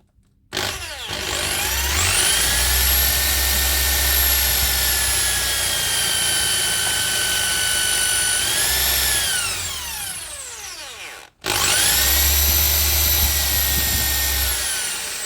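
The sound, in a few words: power drill drilling holes into bass neck joint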